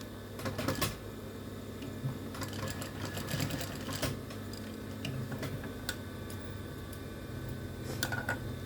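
A sewing machine stitches a folded hem by a plastic zipper head, giving a steady mechanical whir with rapid ticking and a few sharp clicks throughout, close and fairly loud.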